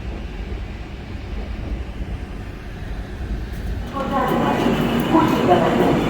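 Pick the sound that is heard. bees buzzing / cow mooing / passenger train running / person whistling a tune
passenger train running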